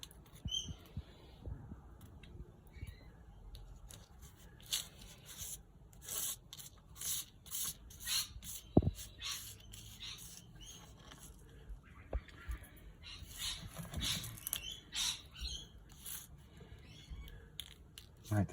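Crushed turquoise is sifted through a metal tea strainer, making a soft, gritty rasping and rattling that comes in steady shakes with occasional small clicks, close up and quiet.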